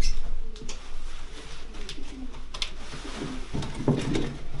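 Breeding pigeons coo steadily in a loft, a low repeated burbling with a louder swell near the end, and a few faint flutters and scuffs in the background.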